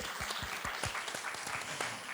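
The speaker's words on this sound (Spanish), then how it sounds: "vamos a pedir un aplauso para el INCA" Faint applause from a film panel audience at Construir Cine for the INCA film institute, with loose, fairly distant clapping that stays quiet throughout the short burst.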